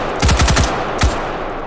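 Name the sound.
M16 rifle firing in the video game H3VR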